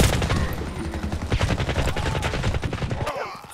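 Rapid bursts of AK-12 rifle fire in the video game Warface crackle steadily for several seconds, loud and close, with sharp repeated shots.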